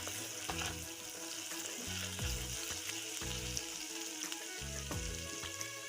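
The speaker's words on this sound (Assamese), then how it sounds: "আৰু এইখিনি অকণমান ভাজি লম এনেদৰে।" Onion with ginger and garlic frying in a pan for a fish and tomato dish, giving a steady close sizzle with repeated stirring scrapes and no talk.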